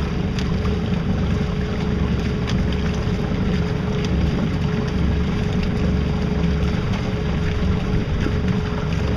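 A small solar-assisted electric boat running at top speed, giving a constant loud rush of water and wind noise with a faint steady motor whine underneath, unbroken throughout.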